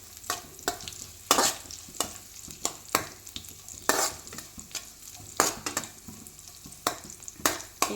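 Onions and green chillies fry in a pan for egg fried rice under a steady sizzle, with repeated scraping stirs of a spatula that come in quick, uneven strokes close up.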